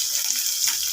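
Curry leaves, cinnamon, cloves, fennel, mace and cardamom sautéing in hot oil for a chicken spicy gravy, giving a steady close hiss and sizzle that holds evenly throughout the brief moment.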